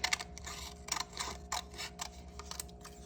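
Scissors snip through paper to cut out triangles, giving a quiet run of short, crisp clicks and slices up close in an otherwise calm room.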